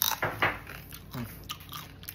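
Crispy lechon belly crunched in close bites, a few sharp crackling bursts with chewing between, no talking over them.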